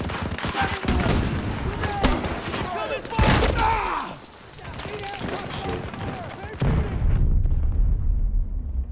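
Video game firefight with rapid gunfire bursts and a heavy grenade blast around the middle, followed by renewed shooting; loud and dense, with people talking over the action.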